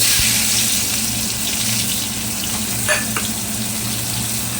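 Chopped onions dropped into hot oil tempered with whole cumin seeds, giving a loud, continuous hissing sizzle close by with a couple of faint clinks near the end.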